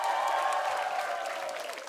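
A live studio audience applauds a singing duo on an Indonesian comedy show, a steady wash of clapping that holds fairly constant and fades slightly toward the end, with no voices on top.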